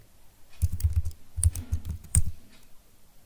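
A computer keyboard is typed on for a Windows 11 search, a close, clear run of clacking keystrokes in short clusters over a couple of seconds, then quiet.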